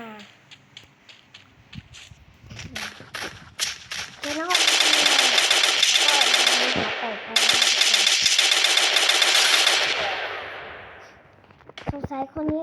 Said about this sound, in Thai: เจอคนอื่นเขาก็ยิงอีกนะครับ แล้วเขาก็โดนยิงตายไปนะฮะ